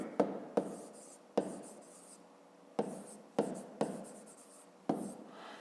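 Handwriting on paper during a fifth-grade maths exercise: short scratchy pen strokes come in separate quiet bursts, each starting with a tap and trailing off, in a silent room.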